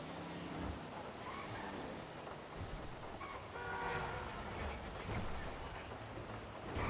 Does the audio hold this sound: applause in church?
no